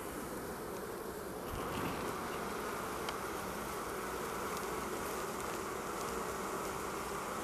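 Honeybees at an apiary hive make a dense, steady buzz that fills the whole stretch, close and continuous, with no voices over it.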